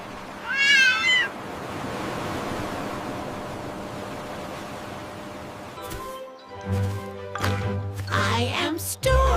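A cat meows clearly with a rising, wavering cry near the start, followed by steady hissing background noise and later some muffled thumps and rustling.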